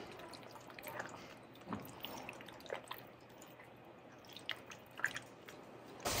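Chopped eggplant in a garden egg stew gets stirred in a pot, giving soft wet squishes and faint drips under low background noise, with a louder scrape at the very end.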